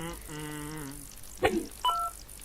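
Telephone dialing tones in the video game Whack Your PC: a couple of short electronic beeps after a sustained tonal hum, with a brief clatter between them.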